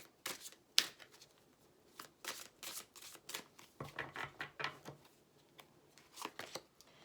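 Oracle message cards being shuffled by hand, soft papery riffles and taps repeating in uneven bursts, close and quiet, with no talking.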